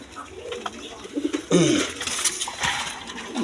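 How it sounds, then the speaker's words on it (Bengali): High-flying Giribaz pigeons coo close by in a few soft, throaty bursts, the loudest rolling coo in the middle, over a low background murmur. "এক পেয়ার হাই ফ্লাইং গিরিবাস কবুতর আছে"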